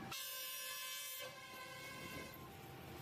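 A toy steam train plays a loud, steady electronic horn-like tone with layered whistling harmonics, close up and continuous for about three seconds.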